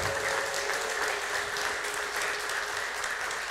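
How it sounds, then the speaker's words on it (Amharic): A church congregation bursting into dense, sustained clapping with high ululating cries woven through it, loud and continuous throughout. "ለእግዚአብሔር ክብር ልልታውን ጭብጨባውን ያስገባል።"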